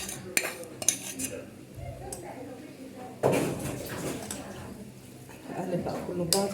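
Chicken stirred in a cooking pot, with clanks and scrapes of a utensil against the metal and a louder clatter midway, all under someone talking.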